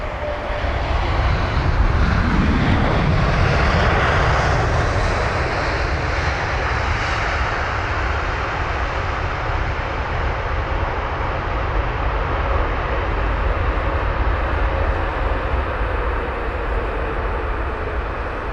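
A United Boeing 787 airliner arriving at London Heathrow on a flight from Los Angeles, its engines producing a loud, steady roar that swells early on and holds throughout, with no voices over it.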